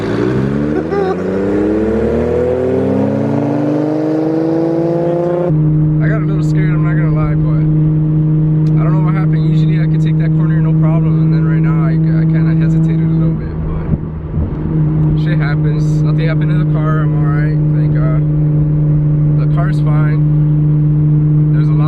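A Nissan GT-R R32 with a Tomei exhaust revs, its engine note swooping upward before settling into a steady droning idle, with people talking over it throughout.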